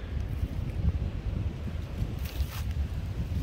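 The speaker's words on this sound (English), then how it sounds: "It's a little windy." Steady wind buffets the microphone outdoors in the woods at Land Between the Lakes, a low rumbling gusty roar with a brief brighter rush of air partway through.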